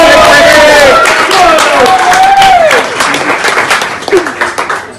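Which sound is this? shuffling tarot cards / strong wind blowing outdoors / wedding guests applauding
wedding guests applauding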